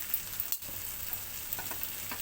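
Okra and tomatoes fry over a high flame in a pan with garlic and cumin, giving a steady sizzle broken by brief stirring scrapes.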